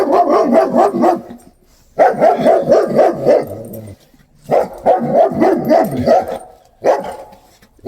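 A dog barks repeatedly in fast bursts, loud and close, with short pauses between volleys.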